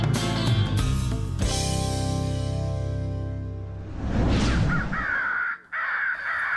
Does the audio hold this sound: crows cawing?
yes